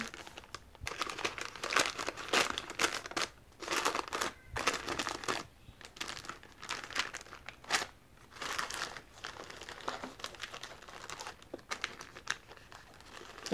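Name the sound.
wrapping paper crinkling while wrapping Christmas gifts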